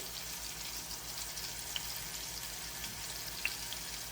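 Wild stump-grown mushrooms frying in a pan on a stove over medium-high heat give a steady, even sizzle with a couple of faint pops and no talking.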